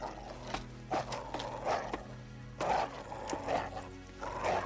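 Several dogs bark in short bursts spaced about a second apart over a steady low background hum, moderately loud and fairly close, with no speech over them.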